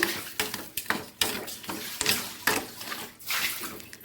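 Water poured into a pan of brinjal, with splashing bursts and a few clinks of metal pan and utensils in a choppy, uneven rhythm, close by.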